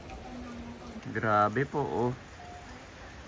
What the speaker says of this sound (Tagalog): Uy, lumakas ang ulan, my boy.